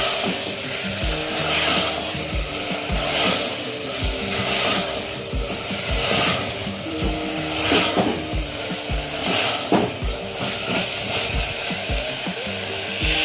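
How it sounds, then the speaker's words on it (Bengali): Chicken rajma with slit green chillies frying in a pan, a continuous sizzle broken by repeated scraping and knocking strokes of a spoon stirring the mixture, loud and close with no talking. "এরপর আমরা এর মধ্যে দেবো চেরা কাঁচা লঙ্কা, দিয়ে কিছুটা কষিয়ে নেব।"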